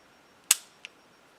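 A single sharp handgun shot is fired during a beginner shooting drill, a loud close crack with a brief decaying tail, followed by a faint small click a moment later, with no talk.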